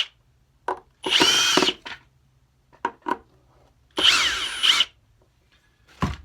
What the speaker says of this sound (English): now we're going to take off these two screws here in the back that hold the neck in place